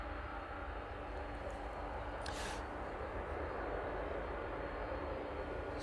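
At East Midlands airport in the evening, an aircraft taxis onto the start of runway 09. Its engines give a steady, distant, broadband roar that stays even for several seconds, with a brief hiss partway through.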